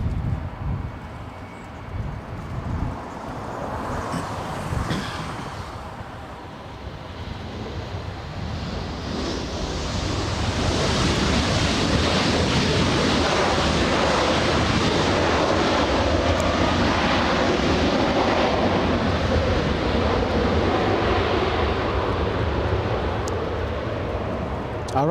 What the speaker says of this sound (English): We got a Air Canada coming in